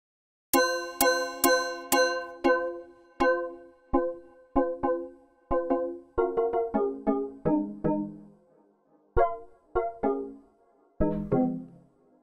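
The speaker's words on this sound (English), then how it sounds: "There's like a metallic bell / drum sound almost." Synthesized metallic, bell-like percussive hits from a Behringer Pro VS Mini synthesizer with high resonance ring out one after another in quick sequences with pauses, each strike bright and decaying, some notes lower and drum-like.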